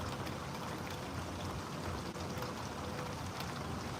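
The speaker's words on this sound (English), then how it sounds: "It's been raining for fucking hours." Heavy rain pouring steadily for hours, a dense continuous patter and wash of drops on surfaces, fairly quiet and even throughout, with no talking.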